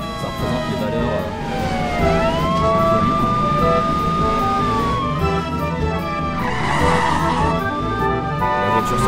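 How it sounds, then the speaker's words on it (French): A car sound effect made for a film rises in volume as the vehicle approaches, with a sweeping, gliding whine and a rough burst of noise near the end. "La voiture se rapproche, le volume augmente"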